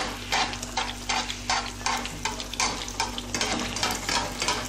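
Sfenj, Moroccan yeast doughnut dough, frying in a pot of hot oil at home, with a steady close sizzle broken by repeated bursts of bubbling and spattering as the rings are turned and puff up.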